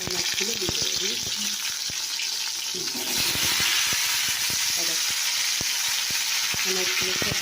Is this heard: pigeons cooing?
no